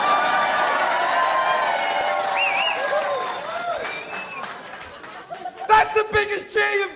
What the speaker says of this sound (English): That's the biggest cheer you've given me all night!